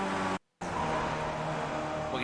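Race cars in the iRacing simulator roar at full throttle around Charlotte's track with tire squeal as cars slide near the bus stop chicane, a dense continuous engine blare broken by a brief dropout.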